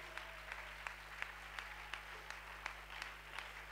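A church congregation at an Easter fasting and prayer service claps in scattered, sharp bursts over a steady low hum, faint and somewhat distant.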